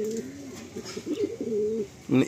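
Madrasi and Andhra pigeons coo close by in soft, throaty, repeated rolling calls that overlap through the clip, with a voice briefly in the background.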